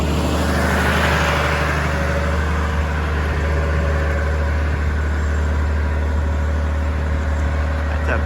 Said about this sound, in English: That's a big tractor.